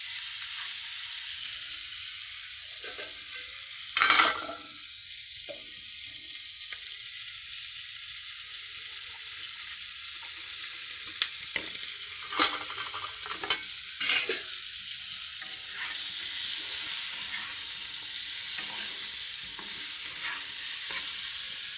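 Meat fries in a pan with a steady soft sizzle, while a utensil stirs and scrapes now and then with a few louder clanks against the pan.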